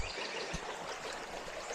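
A slow-moving creek in southern Indiana, flowing and trickling in a steady, even wash of water sound that fills the whole moment, with no voices.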